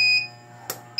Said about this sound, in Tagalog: Battery low voltage alarm.